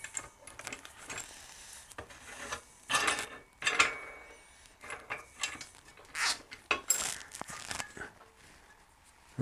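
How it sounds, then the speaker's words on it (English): A pressure vessel lid being undone after depressurising, used for stabilising wood for knife scales, gives a series of close, irregular metallic clicks, scrapes and ratcheting rattles in short bursts. "So I can now safely undo the lid of the pressure vessel."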